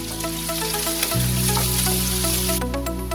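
Steady, loud sizzling of chopped onions frying in a pan, a continuous crackle with no talking.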